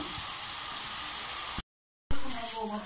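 Coconut and other ingredients for a chalta sour chutney frying in a pan, a steady soft sizzle that drops out briefly, then resumes with a louder burst of hiss.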